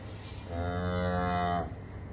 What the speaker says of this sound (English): You can see a slightly angry cow.